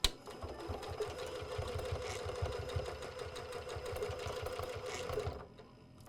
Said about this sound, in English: we're going to take it to the machine and we're just going to sew over this